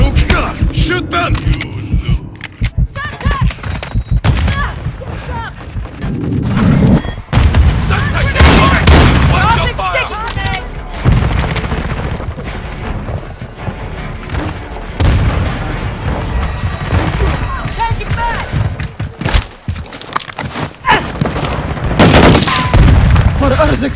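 Heavy booms and rapid gunfire from Call of Duty: Modern Warfare II fill a hardpoint match, dense and loud throughout, with shouted voices over the battle.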